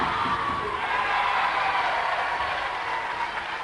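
A basketball crowd cheers steadily at Ponds Forge during a 1992 UK tournament game, a dense roar of voices and whoops that holds at a constant, loud level throughout.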